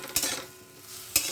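Lightly pressure-boiled potatoes fry in a pan and are stirred, giving a soft continuous sizzle with two sharp scraping strokes of the utensil against the pan.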